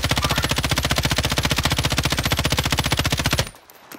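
Sustained rapid automatic gunfire in the Call of Duty video game, a loud, steady burst of evenly spaced shots lasting about three and a half seconds before cutting off abruptly into quieter ambient game noise.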